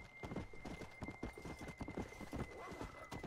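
In the Red Dead Redemption: Undead Nightmare video game, a horse gallops with quick, evenly spaced hoofbeats close up and fairly loud, under a continuous high tone.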